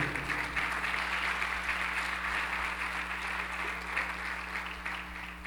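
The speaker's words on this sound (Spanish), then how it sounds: "Dele un aplauso al Señor." A church congregation applauds during a Spanish-language sermon, a sustained wash of many hands clapping that sounds soft and distant in a large room and carries on evenly for several seconds without speech.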